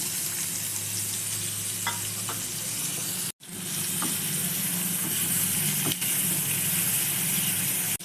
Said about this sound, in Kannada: ಒಂದು ಈರುಳ್ಳಿನ ಸಣ್ಣಗೆ ಹಚ್ಚಿಟ್ಕೊಂಡಿದ್ದೆ ಅದನ್ನ ಹಾಕೋತಾ ಇದ್ದೀನಿ ಒಗ್ಗರಣೆಗೆ